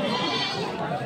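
Goats at a rainy livestock market in Tangail, Bangladesh, with a short, close bleat standing out over busy crowd chatter and people talking nearby.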